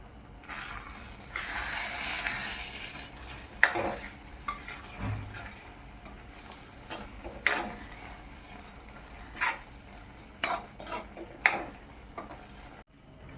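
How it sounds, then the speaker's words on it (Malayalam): A spoon stirs elephant foot yam curry in a pan after black pepper powder is added, giving intermittent scraping strokes over a gentle simmering sizzle, close and fairly quiet. "ശേഷം 1/4 സ്പൂൺ കുരുമുളക് പൊടിയും ചേർത്ത് ഇളക്കി കൊടുക്കാം."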